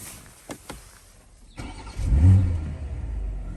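A BMW M440i sits quiet with a few light clicks, then its engine cranks and catches, followed by a short, deep rev that settles into a steady idle, close by with no voices.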